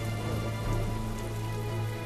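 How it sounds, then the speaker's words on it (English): Rain falls steadily at night, an even, close patter on surfaces under a low constant hum, with no voices. "In the depth of a rainy night"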